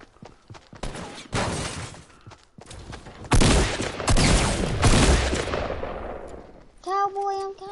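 Video game gunfire in a battle royale-style match: dense bursts of rapid shots and fusillades, loud and close, with a lull in between and a voice heard near the end.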